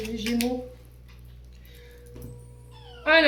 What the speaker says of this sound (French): excusez-moi pour le chien, je sais pas ce qu'il a, il est bougon aujourd'hui